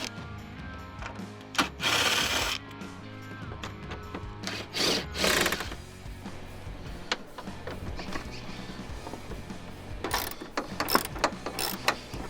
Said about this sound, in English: first thing we are going to do is remove the fan shroud, and it is 10 millimeter bolts